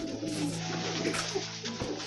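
Sirazi pigeon cooing in soft, low repeated calls, close and clear, with a steady faint background hum and no speech.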